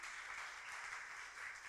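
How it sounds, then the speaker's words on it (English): Steady audience applause at a corporate summit welcoming a Plug and Play co-founder onto the stage, a continuous even wash of clapping that is fairly faint and heard without any talk. "Can we give him a round of applause to invite him?"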